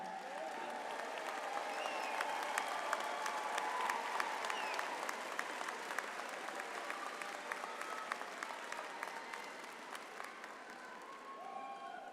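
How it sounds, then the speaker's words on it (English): Standing graduates at a university commencement applaud their seated family and friends, a steady, dense clapping from a large crowd that fills the hall for the whole stretch without letting up. "I didn't even have to ask you to give them a round of applause."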